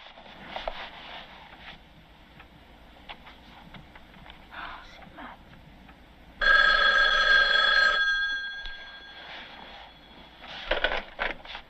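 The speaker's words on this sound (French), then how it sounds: "l'amplification du son du téléphone quand celui-ci sonne pour nous faire sursauter" A telephone bell rings loudly and alone for about a second and a half in a horror short film, standing out sharply against quiet ambience and brief movement noises.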